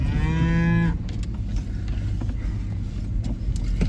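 A cow lowing on a farm: one loud, close, drawn-out moo lasting about a second, followed by vehicle rumble and faint clatter, with no talk.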